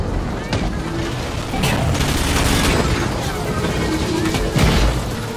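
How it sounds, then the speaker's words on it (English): Plasma cannon shots and bomb blasts in the futuristic racing game Wipeout VR 2050 Omega Collection: loud booming bursts and rumbling explosions layered over dense game noise, with a player talking over it. "bomb, plasma cannon."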